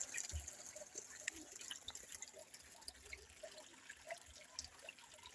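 Spring water at a village spring in Africa trickles and drips softly nearby, a faint, steady flow with scattered small splashes over quiet surroundings.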